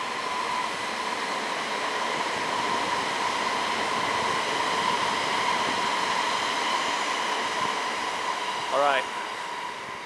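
A passing train makes a continuous broad rumble with a steady whine, loud and sustained through the whole stretch, and a brief voice speaks near the end.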